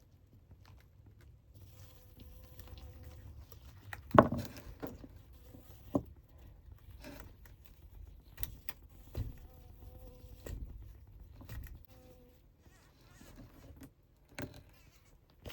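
Africanized honey bees buzzing around a hive while queens are marked, a low steady insect drone with scattered close bumps and handling clicks throughout.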